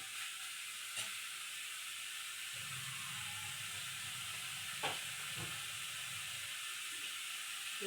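Potatoes and chickpeas frying with spices in a pan give a steady, soft sizzle and hiss throughout, with a few light clicks of stirring and a low bubbling rumble in the middle section.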